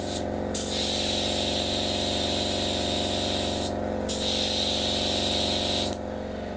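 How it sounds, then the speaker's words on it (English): A steady hissing airbrush spray paints a model ship, running nearly continuously, broken by a couple of brief pauses, over a constant low mechanical hum from a compressor. "So I'm going to respray it with this."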